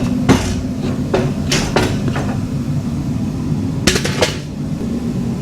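Metal clanks and knocks as an old, bent trailer axle is pulled free, with several sharp impacts over a steady background hum, and a cluster of bright clangs near the end.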